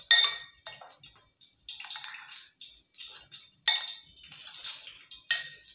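A spoon stirs gram flour batter with salt, turmeric and coriander powder in a bowl, giving repeated light clinks and scrapes against the bowl in an irregular rhythm, quiet and close.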